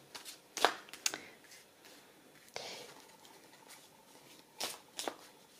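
Mantegna tarot cards being shuffled and gathered by hand, heard as a few close, crisp riffling and slapping bursts separated by quiet pauses, fairly faint overall.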